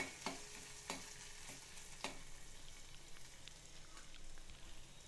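Ginger garlic paste and cumin seeds fry in hot oil, a soft, quiet sizzle with a few crisp spatula taps near the start that then settles into faint, even crackling, heard up close with no voices.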